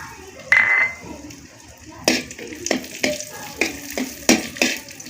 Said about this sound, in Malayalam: നെയ്യ് ചൂടായി വരുമ്പോൾ അണ്ടിപ്പരിപ്പും മുന്തിരിയും ഇട്ട് കൊടുക്കുക.